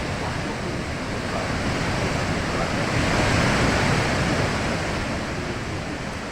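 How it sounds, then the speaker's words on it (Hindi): Chitrakote waterfall is swollen after heavy rain, and its rushing water makes a steady, dense roar of broadband noise with no breaks and no voices. "भारी बारिश से चित्रकोट वाटरफॉल का नजारा अद्भुत हो रहा है।"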